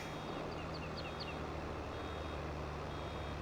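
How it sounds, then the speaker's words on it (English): A vehicle in Farming Simulator 22 emits a steady run of high electronic beeps over a constant low engine hum, fairly quiet and with no talking. "It's beeping at me and I'm getting distracted."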